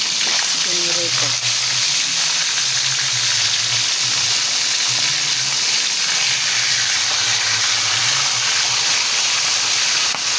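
Tilapia fish frying in hot oil, a steady close sizzle and crackle that fills the whole stretch, with a brief voice near the start.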